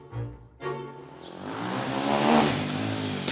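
A motorcycle arriving at speed in the Paris suburb of Sceaux, its engine swelling from a quiet start into a loud, rising rev that holds near and strong, with no voices.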